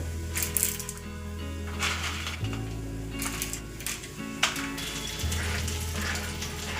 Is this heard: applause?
no